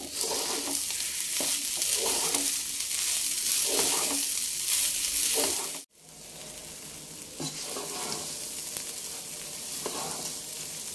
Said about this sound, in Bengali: আমার চালটা ভাজা হয়ে গেছে